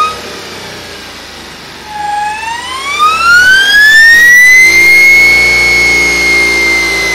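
An electric motor spins up from rest, its whine rising steadily in pitch over several seconds and then holding a loud, steady tone near the end, with no talking.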